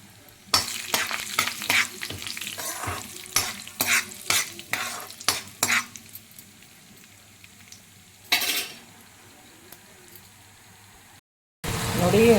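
Onion, green chili and curry leaves hitting hot oil with mustard seeds, cumin and urad dal: a spoon stirs and scrapes the pan in quick bursts over a soft sizzle, then a pause before a louder final surge.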